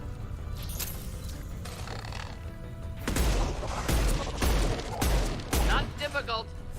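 Gunfire in the Mass Effect 2 video game: loud, repeated bursts of shots over a busy background of mechanical clatter and game effects, with voices mixed in.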